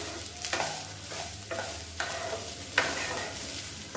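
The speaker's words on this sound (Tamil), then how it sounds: "இப்போ வந்து சாதத்தோட எல்லாத்தையும் நல்லா பரட்டி விட்டுக்கலாம் மீடியமான ஃப்ளேமில் இருக்கட்டும்" Cooked rice and spices are stirred in a frying pan over a medium flame, with a steady sizzle broken by several distinct scraping strokes of the spoon at uneven intervals, close and alone.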